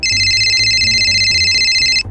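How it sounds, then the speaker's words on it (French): A telephone rings with a loud, close electronic trill that repeats in rapid pulses for about two seconds before cutting off. "le téléphone sonne"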